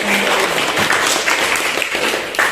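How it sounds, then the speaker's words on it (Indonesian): Applause from students in a classroom, a dense steady patter of clapping that holds for a couple of seconds at fairly loud level, with a faint voice briefly audible near the start. "berikan aplaus lagi untuk"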